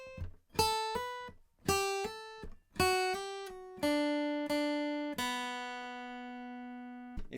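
A guitar plays the lead line of a song with hammer-ons: clean picked single notes in short phrases, some slurred upward, ending on a long ringing note, played alone.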